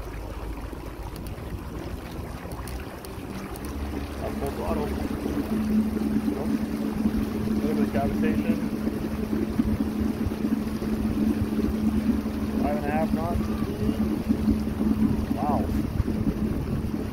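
Homemade 2.5kW electric outboard motor pushing a small boat over water, a steady low motor hum under heavy wind buffeting and splashing that rises as it speeds up, with a voice exclaiming briefly.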